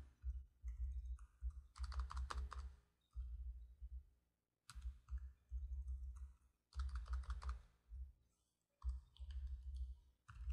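Computer keyboard typing while C++ code is edited, heard as close, brisk bursts of key clicks separated by short pauses, with no talking.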